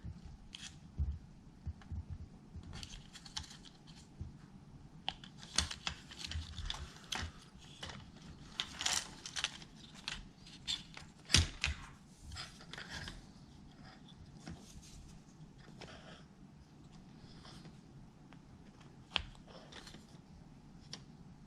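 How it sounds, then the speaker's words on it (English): Plastic robot kit legs being fitted onto a metal axle and fastened with a plastic nut, giving faint, scattered clicks, snaps and light plastic rattles with irregular handling noise and no talk. "Insert the metal axle in the middle hole of the leg and attach them with a plastic nut."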